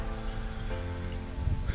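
Rain beginning to fall by the Dead Sea, a steady broadband patter and hiss that stays even throughout, with no talking.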